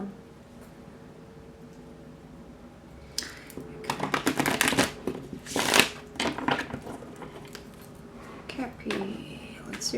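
Close, crisp riffles and rustling of cards being shuffled in several bursts over a low background hiss.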